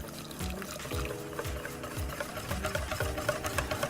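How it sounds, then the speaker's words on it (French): Milk poured into crêpe batter, a close, continuous liquid pour with gentle rhythmic glugging and splashing. "j'incorpore donc mon lait"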